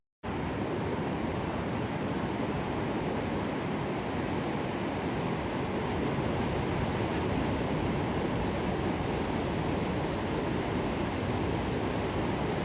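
Waves break on an Irish beach as a steady, unbroken rush of surf, with a little wind mixed in. There is no talking.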